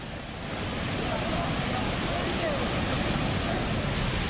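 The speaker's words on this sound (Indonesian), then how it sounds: "derasnya arus sungai." A swollen, flooded river current, the Feondari river, roars steadily and loudly with broadband rushing water and wind buffeting the microphone, holding constant after a brief rise at the start, with no talk.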